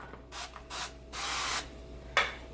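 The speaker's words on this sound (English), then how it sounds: "I'm going to spray them with oil" Four short spray bursts of oil misted over cut zucchini pieces on a Ninja Foodi grill grate, the first three soft and spaced apart, the last a sharper, louder hiss, with no talking.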